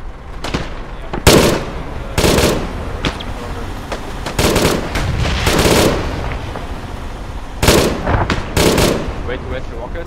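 Machine gun fire in a video game, loud separate bursts and single cracks scattered across the stretch, each with a rumbling tail. The shots are close and sharp, set against a quieter background.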